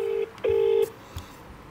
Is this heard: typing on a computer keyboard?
no